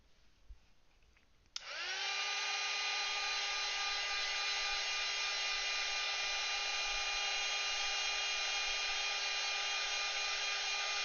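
A hair dryer switches on after a quiet moment and runs at a steady, loud, constant whine to dry paint on an artwork, continuing uninterrupted to the end.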